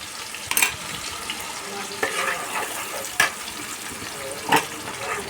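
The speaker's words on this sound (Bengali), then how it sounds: "আমি সুন্দর করে এটা কষাতে থাকবো যতক্ষণ পর্যন্ত না তেল বেরোয়" A fish curry spice paste fries in oil on low heat with a continuous soft sizzle, as a spoon stirs and scrapes the pan in several distinct louder strokes.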